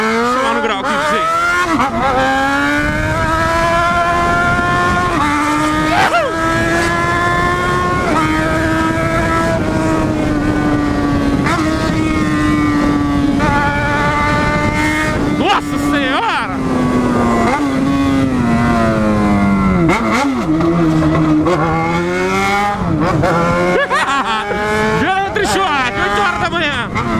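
A Yamaha XJ6 motorcycle engine is revved hard and held at high pitch for a long, loud stretch, the tone rising and dipping close by with no break.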